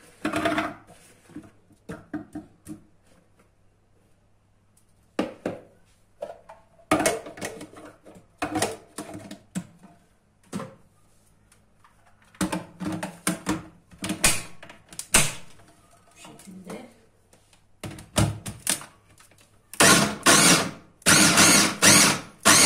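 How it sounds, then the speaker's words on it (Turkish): Onions for a lahmacun filling are minced in an electric food chopper, heard as loud, uneven bursts of whirring and chopping that start and stop with short pauses between them. "Şimdi soğanlarımdan çekmeye başlayacağım."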